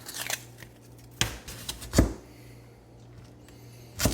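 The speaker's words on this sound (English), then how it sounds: "I bought a dream melon, so let's cut into that." A knife cuts into a dream melon during home cooking, giving a few sharp, crisp slicing crunches spaced apart over a low steady background hum, close and fairly quiet.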